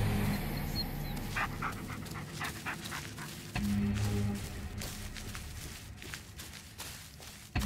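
A dog panting steadily with occasional soft whimpers in the Blair Witch video game, close and continuous, with faint footsteps and ambient game sounds beneath.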